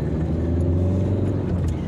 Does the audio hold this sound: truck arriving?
yes